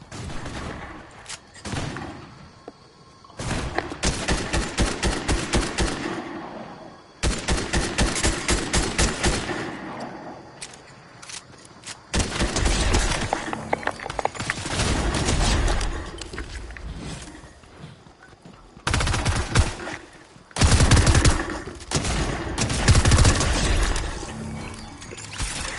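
Bursts of gunfire in the video game Fortnite come in several sharp, loud volleys of rapid shots separated by short gaps, with clattering mechanical sounds mixed in.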